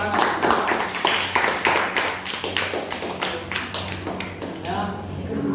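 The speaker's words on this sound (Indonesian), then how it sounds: "Betul, berikan tepuk tangan." A classroom group claps during an Islamic lesson, a burst of quick overlapping hand claps that gradually thins and softens, with voices mixed in.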